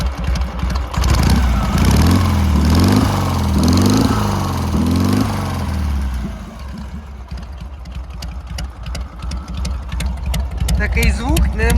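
A Dnepr MT motorcycle engine revs up and down several times in rising and falling swells, then settles back to a lumpy idle.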